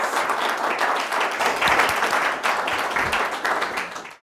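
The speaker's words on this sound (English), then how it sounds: "So extra applause for those folks." Steady applause from an audience at a restorative justice trial reenactment, dense continuous clapping at close range that holds for about four seconds before cutting off abruptly.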